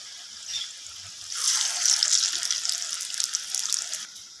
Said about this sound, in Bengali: তো কড়ার মধ্যে যে কটা আমার বড়া ধরবে আমি সে কটাই দিয়ে দেব।